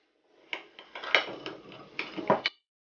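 Spoon clinks and scrapes in a small bowl as yeast is stirred with warm milk and a spoonful of sugar, a handful of light, irregular taps over a few seconds.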